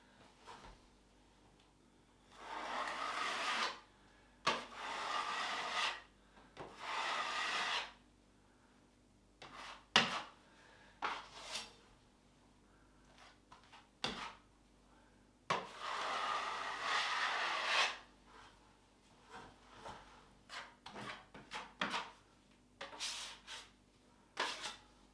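A filler knife spreads a second coat of filler over a crack in a wall, making soft scraping and rubbing strokes in separate bursts. Sharp taps and knocks fall between the strokes, close up and fairly quiet, with no speech.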